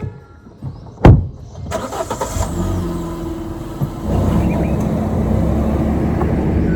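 Car engine starting up and idling steadily while the car is moved a short way forward, with a sharp thump near the start and a continuous low rumble filling the rest.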